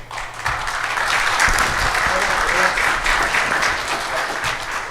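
A conference audience claps in steady, full applause for several seconds, a thick wash of many hands with faint murmuring voices mixed underneath.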